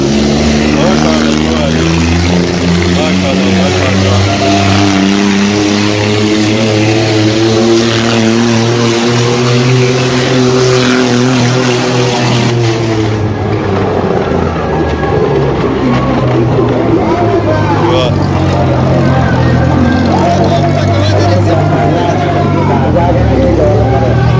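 A car engine in a Well of Death stunt show in Pakistan drones loudly and steadily, its pitch sliding lower midway before a rougher, broader roar takes over, with people talking throughout.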